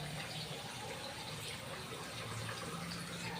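Water runs from a tap in a steady, even hiss while a zucchini and sotanghon noodle dish with mackerel is being prepared, fairly faint and unbroken for a few seconds.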